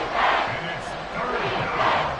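Crowd noise from an EA Sports football video game late in a close game, a broad steady roar of cheering spectators swelling near the start and end of the stretch.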